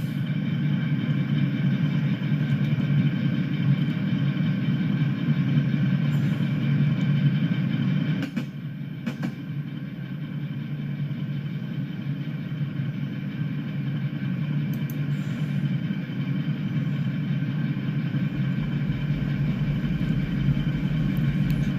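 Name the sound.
unbalanced washing machine running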